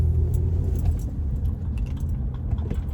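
Steady low rumble of a car being driven, heard from inside the cabin, with light jangling like keys swinging over the continuous road and engine drone.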